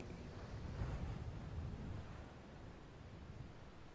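Ocean waves in the video game A Plague Tale: Requiem, a steady low rushing surf with a soft swell near the start, continuous and fairly faint with no voices.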